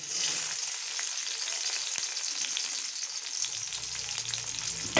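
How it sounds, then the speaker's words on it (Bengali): Onions sizzle in a hot wok, a steady, fairly quiet frying hiss with faint stirring, and no voices. "কড়াইটা গরম হয়ে গেছে, এবারে আমি প্রথমে পেঁয়াজ দিয়ে দেব।"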